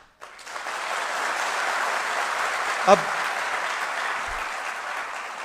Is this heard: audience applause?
yes